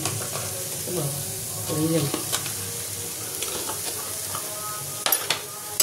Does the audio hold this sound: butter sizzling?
yes